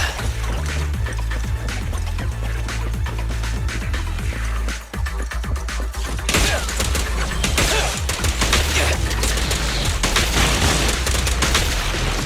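Continuous, dense gunfire in the action game Zenless Zone Zero, with rapid shots and booms layered over a game soundtrack, loud and sustained for the full length, briefly dipping midway.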